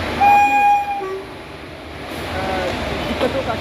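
A train starts moving at Buxar railway station in India: a steady rumbling roll fills the clip, with a short, clear horn tone near the start.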